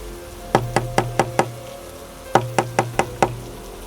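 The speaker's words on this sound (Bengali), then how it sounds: "ওই তো আবার টকটক শব্দ।" Knocking on a door comes in two bursts of about five quick, sharp raps each, separated by a pause, close and distinct with no talking.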